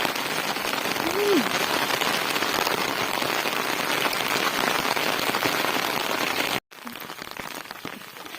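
Heavy rain pours steadily onto farm fields planted with black gram, a dense, close hiss that fills the whole stretch, broken by a brief cut near the end before the downpour resumes.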